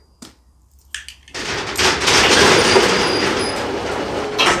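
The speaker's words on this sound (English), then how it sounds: "I'm just going to open the garage" A garage door rolling open in a home garage: a couple of sharp clicks, then a loud, sustained rumbling clatter that runs steadily to the end, with no voices.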